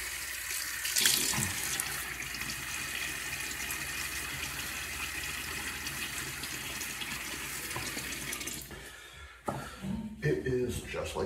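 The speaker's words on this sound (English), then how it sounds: "Let me get my face wet." Tap water runs steadily into a sink while a man wets his face before a wet shave, a continuous close splashing with a brief louder burst near the start, a pause and then more handling at the end.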